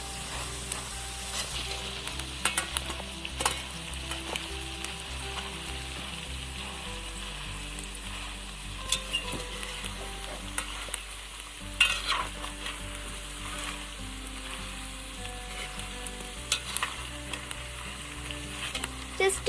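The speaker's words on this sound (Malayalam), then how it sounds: "കപ്പ അരിഞ്ഞു വെച്ചിരിക്കുന്നത് നമുക്ക് കുറച്ചായിട്ട് എണ്ണയിലേക്ക് ഇട്ട് കൊടുക്കാം." Sliced tapioca (kappa) fries for crispy upperi in hot oil, a steady close sizzle with scattered clinks and scrapes of stirring, loud and continuous throughout without any talk.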